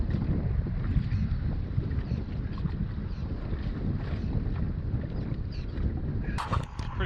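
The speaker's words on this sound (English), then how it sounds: "I'm not really liking what the wind's doing" Steady wind roaring across open sea around a jet ski, a dense continuous rush with choppy low rumble, loud and close, ending in a brief brighter splash or buffet.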